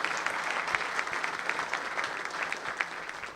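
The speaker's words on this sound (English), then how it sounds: "will you please give him a round of applause?" An audience at a political event for an Illinois congressman breaks into a steady round of applause, dense crowd clapping continuing evenly throughout without a break.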